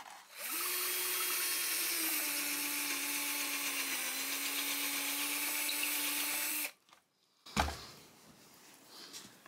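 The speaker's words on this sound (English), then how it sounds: "we're going to drill through where the pilot hole is" A power drill whines steadily for about six seconds while boring through the pilot hole in the neck pocket of an archtop guitar body. It stops abruptly, then a brief knock and faint handling noise follow.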